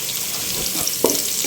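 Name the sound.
ginger garlic paste and peppercorns frying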